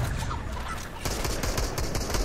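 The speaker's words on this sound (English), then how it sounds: "Kill this fucking chicken." Chicken clucking and gobbling in the Fortnite battle royale game, a steady busy stream of bird calls mixed with game noise and possible gunfire, fairly loud throughout with no talk.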